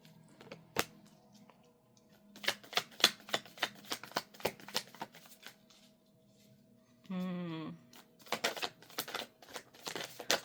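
Tarot cards being shuffled up close, a run of sharp riffling flicks in quick bursts, then a brief tonal hum, then more card snaps; no voices.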